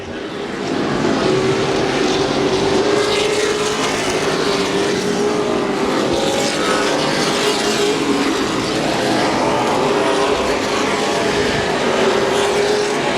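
Race cars lap at Houston Motorsports Park, a loud continuous roar of engines that swells and fades as the cars pass, with the droning engine pitch steady across the whole stretch.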